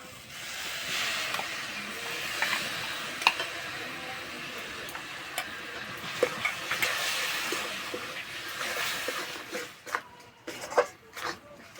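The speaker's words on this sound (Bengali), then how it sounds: "কিছুক্ষণ গুড়টা এভাবে নেড়ে নেব" Cane jaggery melting in a pan with roasted gram flour, stirred steadily under a soft continuous sizzle, with occasional clicks of the spoon against the pan, close up and moderately loud.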